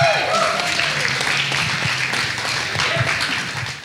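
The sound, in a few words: wedding guests applauding the best man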